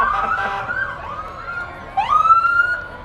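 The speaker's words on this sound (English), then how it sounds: "you get some sirens, you get a little noise out of them" Fire truck sirens wail at a firemen's parade, one rising and falling tone followed by a sharper upward sweep that holds high and loud, with engine rumble beneath and no talking.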